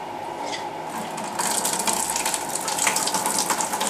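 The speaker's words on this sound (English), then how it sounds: "turn the spigot and see how much wine comes out before it gets clogged" Homemade wine must made from Chilean Merlot grapes drains from a fermenter spigot, making a steady, close gushing and splashing that grows a little louder partway through.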